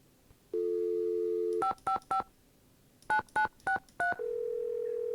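Telephone keypad tones from the Nancy Drew game Secret of the Scarlet Hand: a steady dial tone, then a quick run of clear dialing beeps, a pause, another rapid string of beeps, and the tone resuming, with no talking.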